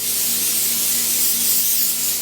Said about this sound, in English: I'm going to spray these one last time with cooking spray